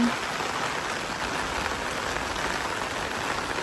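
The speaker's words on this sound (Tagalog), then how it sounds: "Kami ay inulan." Steady rain pours down on a camp in Ormoc, a dense, even hiss of drops on surfaces that holds close and constant for the whole stretch.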